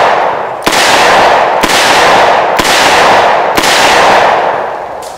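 Charter Arms Boomer revolver firing five sharp, loud shots at roughly one-second intervals, each followed by a long, heavy, noisy rumble of echo that fills the gaps between shots.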